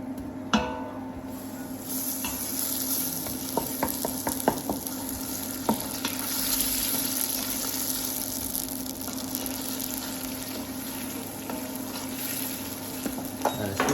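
Butter sizzles and fries steadily in a pan of hot caramel for an apple tarte tatin, a continuous close hiss broken by a few soft clicks of stirring, with no talking.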